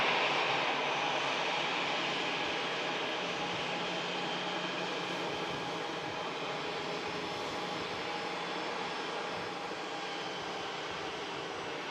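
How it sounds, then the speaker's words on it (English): An EasyJet airliner arriving at Manchester Airport from Malaga produces a steady, broad engine roar that fills the whole stretch and eases slightly toward the end. "EasyJet just arrived in from Malaga"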